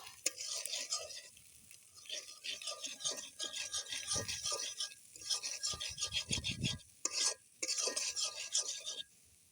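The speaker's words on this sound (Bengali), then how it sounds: "এখন সবগুলো মশলার ভিতর দিয়ে দেবো দিয়ে সবগুলো উপকরণকে একসাথে ভালো মতো মিক্স করে নেব" Spices and ingredients for homemade pasta are stirred and mixed together in a pan, producing repeated scraping, rasping strokes with brief pauses, close and moderately loud, with no talking.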